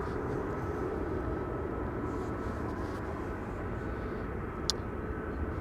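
An airliner takes off from runway 18 Left at Amsterdam Schiphol airport, its engines a steady distant rumbling roar that holds throughout, with one brief sharp click near the end.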